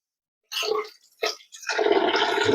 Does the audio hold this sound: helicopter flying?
no